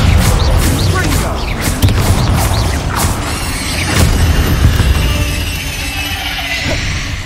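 A Confringo fire spell blasts during a Hogwarts Legacy fight against spiders, with loud repeated impacts, crackling bursts and rumbling effects over continuous game sound, and a voice calling out the spell.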